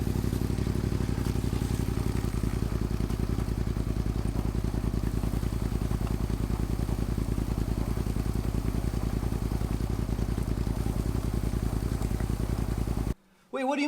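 A motorcycle engine runs continuously in first gear with its rear chain turning during cleaning, a loud, close, steady rattling chug with fine clatter, cutting out abruptly near the end.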